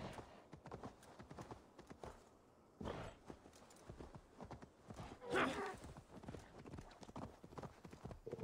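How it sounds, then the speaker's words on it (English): In the Assassin's Creed Valhalla video game, a giant elk mount moves with steady clip-clopping hoofbeats, with a brief louder snort or whinny partway through and faint voices underneath. "Oh, instead of a horse, I have a giant elk."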